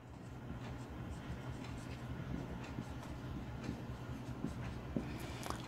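Faint, irregular scratching strokes of handwriting during a finance lecture, scattered as short ticks over a low, steady background hum, with no voices.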